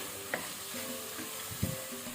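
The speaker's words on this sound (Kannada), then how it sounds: "ಸೊ ಇದನ್ನೆಲ್ಲ ಸ್ವಲ್ಪ ನಾವು ಫ್ರೈ ಮಾಡುವ" Carrots, beans and other vegetables frying in tempering in a pan, a soft steady sizzle with a stirring scrape and a couple of light clicks.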